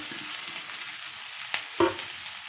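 Cooked rice being stirred into fried eggplant in a hot pan for brinjal rice: soft sizzling under quiet scraping, with two sharper spoon or spatula knocks near the end.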